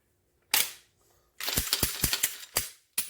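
A Glock 23 pistol slide sliding onto its frame, heard as a sharp metallic click followed by a series of close, rattling mechanical clicks and snaps, then a final click; no talk.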